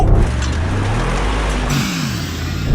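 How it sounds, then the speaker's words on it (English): A Toyota Land Cruiser with a 2.8-litre diesel accelerates hard off the line in an off-road race against an AMG G63, a loud, close, rough engine roar whose pitch climbs steadily through the revs over heavy rumble. "that Land Cruiser took off"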